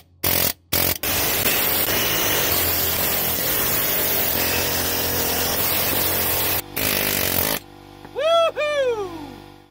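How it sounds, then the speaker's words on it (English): Pneumatic air hammer with a chisel bit driving into a Jeep Grand Cherokee WJ front control arm bushing, loud rapid hammering in long bursts with short pauses, then ending in squealing, chirping tones. "All right, I'm gonna work this thing in the old air hammer. Got the chisel tool on here."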